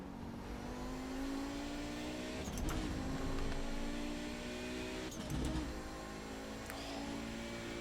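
A race car engine in the iRacing sim repeatedly bangs off the rev limiter, with harsh stuttering bursts over a steady engine drone, several distinct hits spread across the stretch.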